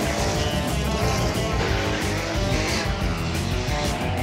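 A drag race car, rough and loud, roars up close through the whole stretch, a dense throaty engine with squealing, skidding tires mixed in and no talk.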